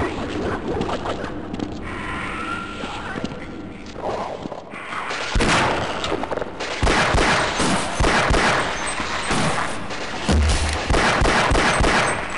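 A grenade blast in the shooter game Half-Life, a loud broadband burst followed by a rapid series of sharp cracks and clattering impacts that keep up to the end.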